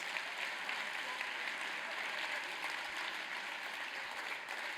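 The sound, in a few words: audience applause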